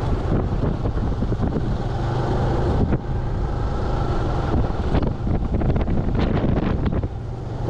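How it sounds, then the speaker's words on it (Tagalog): Heavy wind buffets the microphone in continuous loud rumbling gusts at Seaside Boulevard and Bayshore Avenue in Pasay, Manila, with a low roar of traffic or water underneath and no speech. "Natatangay tayo ng lakas ng hangin."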